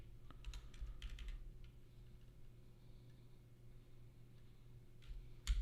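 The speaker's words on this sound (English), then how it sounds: "If I can type it correctly instead of typing it like a dingus." Keys clatter on a computer keyboard during an editor-coding session, with quick bursts of clicks and brief pauses over a steady low hum, close and moderately quiet, with no talk.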